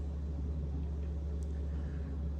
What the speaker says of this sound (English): Sorry for the background noise, I got the washer and dryer running